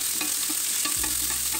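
Cut green mangoes hit a hot pan with spices and fry with a dense, steady sizzle, close and loud, with a low thump partway through.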